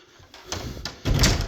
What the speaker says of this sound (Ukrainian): Це якісні двері іспанські.